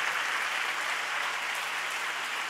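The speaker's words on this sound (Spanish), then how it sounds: "Demos un fuerte aplauso al Señor." A church congregation applauding, a steady wash of many hands clapping together, even and sustained, moderately distant with no talk over it.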